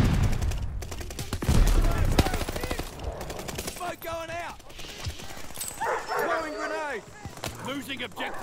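Hostile attack dogs bark and yip repeatedly amid bursts of machine-gun fire during a Call of Duty Vanguard multiplayer match, with a voice speaking over the combat.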